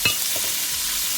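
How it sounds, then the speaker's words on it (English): Shrimp go into a hot pan for pad thai with a short clatter, then a steady hissing sizzle and a few stirring scrapes, close, with no talk. "Then now we can add our shrimps and cook it for a few minutes"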